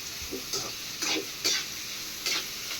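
Curry leaves and masala being sautéed in a pan for a Chettinad-style kuzhambu made without tomato or tamarind, with soft sizzling and a few brief stirring scrapes recurring every half second or so, close and fairly quiet.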